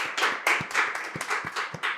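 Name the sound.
audience clapping to welcome a guest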